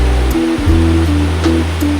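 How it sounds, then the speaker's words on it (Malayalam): The Arikkuzhi waterfall in Kerala roars in a steady, loud rush throughout, with a low humming drone laid over it. "ഒരു മനോഹരമായ വെള്ളച്ചാട്ടം"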